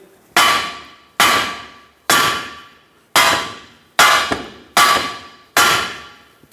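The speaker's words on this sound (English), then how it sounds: "Give it a few taps with a hammer to make sure that it's fully seated." Seven sharp, ringing hammer strikes tap a ball joint into place on a Ford E-350, spaced about a second apart, each decaying quickly, close and fairly loud.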